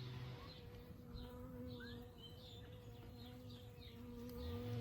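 Honey bees buzz faintly around a small single brood box hive during queen rearing, a steady insect drone with a few soft bird chirps scattered through it.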